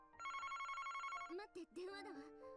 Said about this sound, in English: Wait, the phone's ringing.